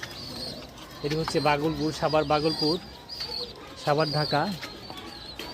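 Pigeons coo at a pigeon farm in Bagalpur, Savar, Dhaka, where heavy pigeons are raised; a soft, steady cooing runs throughout beneath someone talking close by.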